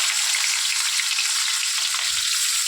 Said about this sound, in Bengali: কেটে রাখা পেঁয়াজটা দিয়ে দিলাম। পেঁয়াজটা আমরা একটু হালকা ভাজা ভাজা করে নেব।